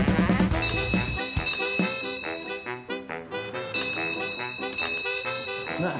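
A bell rings repeatedly, its bright metallic tones piling up into a busy, clanging jingle that continues throughout.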